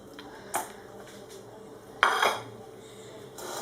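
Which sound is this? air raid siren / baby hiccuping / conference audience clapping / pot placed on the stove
pot placed on the stove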